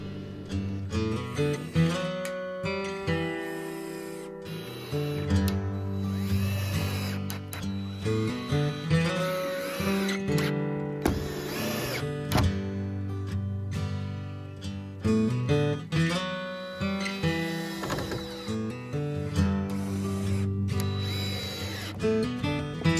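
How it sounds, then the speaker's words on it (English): A power drill drives screws into outhouse framing pieces, a steady close motor whir running throughout with pitch shifts and brief surges as each screw seats. "Cut them and put them in place and screw them off."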